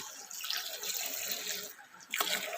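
A box of coconut milk poured into a cooking pot makes a steady, splashing liquid stream close by that breaks off briefly before resuming.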